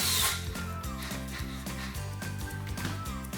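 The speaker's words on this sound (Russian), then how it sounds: "Теперь крепко закручиваю эти 2 самореза." A power drill drives two self-tapping screws into a wooden baluster post indoors, with a loud, steady motor whine that pulses in short bursts as the screws bite into the wood.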